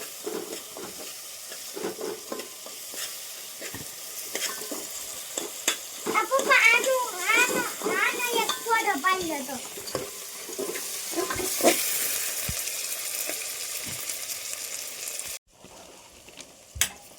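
Tempering with chopped tomato, curry leaves and spices sizzles steadily in a pan for a brinjal curry, with stirring scrapes and a voice talking over the frying partway through.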